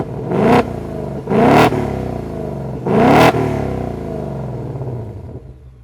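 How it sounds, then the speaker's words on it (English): Exhaust of a Ford Mustang GT Premium V8, three sharp close revs in quick succession, each climbing and dropping, with the last one fading into a rumbling settle. "I'm going to give you a little bit of a soundbite of how these luscious exhaust pipes sound."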